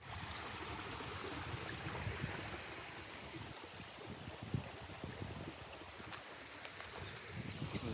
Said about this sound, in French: Et là, c'est un tout petit ruisseau de rien du tout.